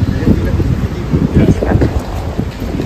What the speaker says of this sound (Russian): Ой, какой ветер опять поднялся.